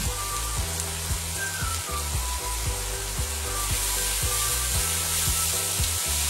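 Shallots browning in a pan with cloves, herbes de Provence, peppercorns, garlic and seasoned salt, giving a steady close sizzle with soft stirring scrapes throughout, no voices.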